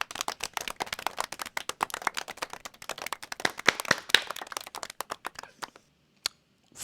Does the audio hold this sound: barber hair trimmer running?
no